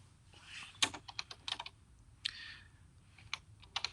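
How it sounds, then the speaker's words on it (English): Keys typed on a computer keyboard, with quick irregular bursts of close, crisp clicks separated by brief pauses, no voices. "I'm going to type real estate."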